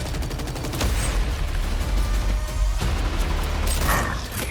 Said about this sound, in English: We're taking fire from both sides!